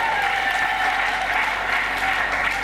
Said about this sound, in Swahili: Mpe Bwana makofi mengi sana.